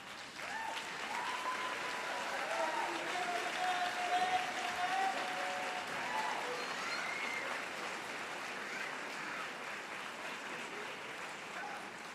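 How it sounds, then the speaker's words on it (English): Graduates at an Eleanor Roosevelt High School commencement stand and applaud their parents and guardians, a broad, steady roar of clapping from a large crowd that holds for about twelve seconds, with faint voices and cheers mixed in. "I want you all to stand, turn around, and clap for your parents and your guardians."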